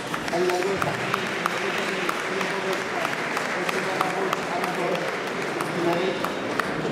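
Guests at an annual dinner applaud warmly in a long, even wave of clapping from a roomful of people, steady and fairly close, with a faint murmur of voices running beneath it.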